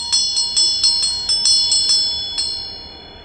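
A Buddhist offering bell of middling tone rings in a steady run of about eleven bright, ringing strikes, each with a short shimmering decay, close and clear with no talk.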